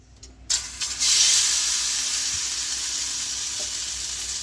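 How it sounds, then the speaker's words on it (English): Egg-dipped bread for French toast drops into a hot frying pan, and a loud sizzle bursts up and then settles into a steady frying hiss, close and continuous. "and then I just set it into my frying pan."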